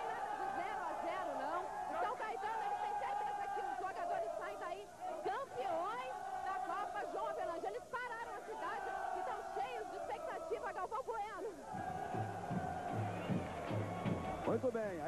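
Fans of São Caetano football club crowd Avenida Goiás in São Caetano during the Brazilian championship final. Their distant chatter and cheering run throughout beneath a broadcaster's steady commentary.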